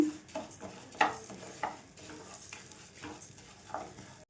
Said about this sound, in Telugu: ఈ నెయ్యి మొత్తం ఈ పెసరపప్పుకు పట్టి కలర్ మారేంత వరకు వేయించుకోవాలి